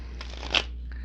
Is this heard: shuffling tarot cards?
yes